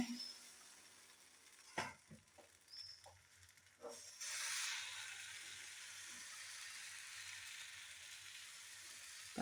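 Palappam batter meets a hot pan with a soft, steady sizzle and hiss after a few faint clinks and taps, the quiet frying sound lasting to the end.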